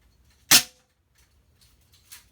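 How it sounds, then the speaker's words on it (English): Air rifles, Notos and P-rod, fired indoors at paper targets: one sharp, close pop followed by a softer, fainter second shot about 1.5 seconds later in a quiet room. "I'll put 2 shots there too."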